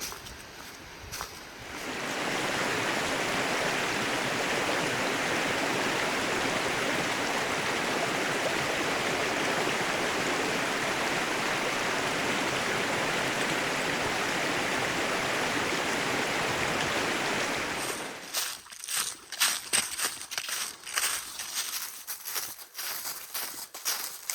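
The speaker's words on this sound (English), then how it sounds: "Ooh, water crossing." Steady rushing of a stream flowing over rocks at a trail water crossing on the Bartram Trail, loud and continuous, then fading to quieter trickles and crunching steps near the end.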